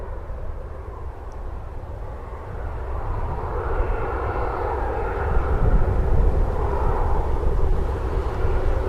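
A Ryanair airliner at Manchester Airport roars steadily, its broad engine noise swelling gradually louder and holding near the end, with no voices.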